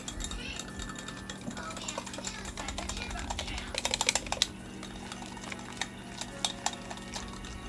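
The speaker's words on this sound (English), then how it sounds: "And now I'm going to whisk it" A whisk rapidly clicks and rattles against a container as a potato soup base is blended, quick ticking strokes that build to a busy flurry midway, with a low hum and some nearby talking.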